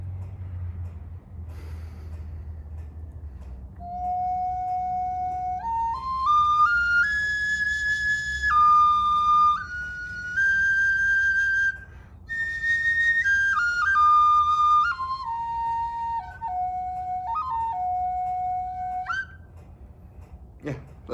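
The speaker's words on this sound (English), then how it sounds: "So I'm gonna give you a little demo on how this flute sounds" A tiny handmade Native American flute made from sawgrass plays a slow, breathy melody of sustained high notes that rise and fall across about fifteen seconds, close and clear, with a low rumble of a garbage truck in the background.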